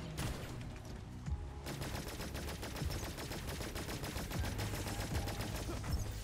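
Rapid gunfire in the sci-fi game Cygnus Enterprises, with a fast, steady stream of sharp shots running for several seconds, loud and close over a constant background hum.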